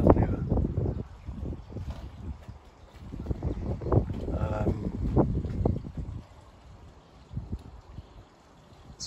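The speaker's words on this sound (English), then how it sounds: "It's quite windy" Gusty wind buffets the microphone in low, rumbling bursts that swell and fade, with quieter lulls between.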